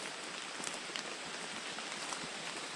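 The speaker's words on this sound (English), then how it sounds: "the rain may ease up and stop" Rain falls steadily on surfaces at a rural property at the start of the rainy season, a dense, even hiss of drops up close with no voices.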